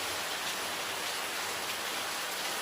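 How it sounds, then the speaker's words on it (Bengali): Steady rain falls on the roof of a home's prayer room, a dense, even hiss with no breaks or voices throughout. "সমানে বৃষ্টি হচ্ছে,"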